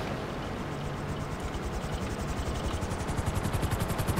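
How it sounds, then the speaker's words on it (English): A low mechanical drone of an aircraft overhead, steady and rumbling, with a rhythmic pulsing that grows stronger toward the end; no talking. "I feel like there's like an airplane noise in the background."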